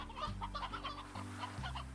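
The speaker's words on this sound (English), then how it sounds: "it's populated with a whole bunch of elder chickens" Elder chickens cluck in the Slime Rancher video game, a flock of steady overlapping clucks under a continuous tonal game music bed.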